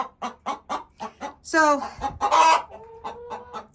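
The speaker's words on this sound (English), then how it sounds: "This is what a broody hen does when you" A broody hen clucks angrily, a rapid run of short clucks followed by a loud, drawn-out squawk of protest as someone reaches for her eggs, close by with a brief word spoken near the start.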